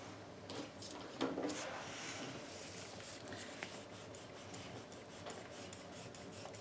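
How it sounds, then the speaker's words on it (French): An eraser rubs out pencil guide lines on paper around a drawn graffiti-style tag, making soft, quiet scrubbing strokes that continue steadily, with one slightly louder scrape early on. "Il ne me reste plus qu'à gommer mes tracés au crayon."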